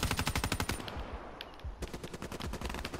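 A Dingo light machine gun in a video game fires rapid bursts of loud, close shots, first a long burst, then a pause with a few scattered rounds, then another sustained stream of fire.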